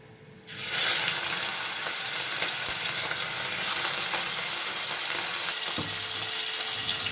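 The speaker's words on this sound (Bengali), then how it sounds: "এবারে আমি মাছটা দিয়ে দেবো।" Fish pieces frying in hot oil, starting with a sudden burst of sizzle as the fish goes in, then a strong, steady crackle that continues with faint scraping, and no one speaking.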